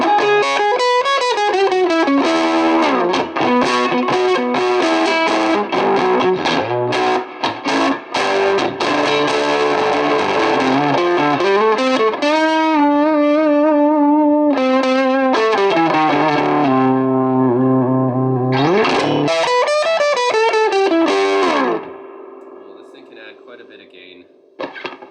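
An electric guitar runs through a Benson germanium preamp pedal with a gritty, driven tone, playing sustained chords and riffs continuously for over twenty seconds, loud and close, before the last notes ring out and fade.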